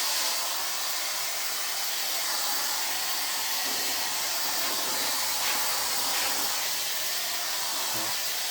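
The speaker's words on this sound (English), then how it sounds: "I needed a new blow dryer." A blow dryer runs steadily drying hair during a layered bob haircut, a loud, close, continuous airy roar with faint intermittent handling changes and no speech.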